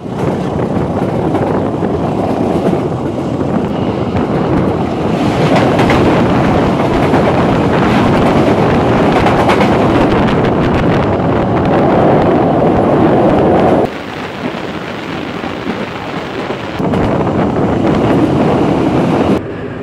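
Argo train on a rerouted run through Yogyakarta, a steady loud rumble and clatter of the cars on the rails, continuous for the whole stretch with a brief dip in level partway and wind buffeting the microphone.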